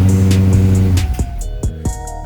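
A push-button-start car sits ready to start, giving a steady low engine-like hum with several short, sharp tones and clicks over it, close and fairly loud.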